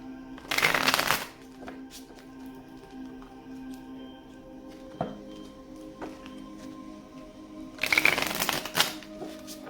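Two bursts of tarot card shuffling, a riffle near the start and another near the end, with quiet room tone and faint taps between.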